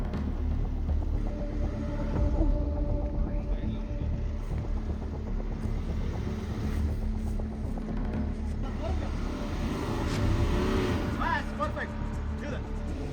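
A Land Rover Defender grinds through rutted off-road tracks on a Sahyadri overlanding trail, its engine giving a steady, close low rumble with a brief rise in revs near the end.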